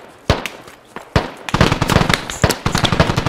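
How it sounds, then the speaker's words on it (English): Gunfire rattles in the video game Squad during an intense firefight, starting with a few sharp, spaced cracks and then building into rapid, loud, overlapping bursts of shots close by. "I'm getting shot."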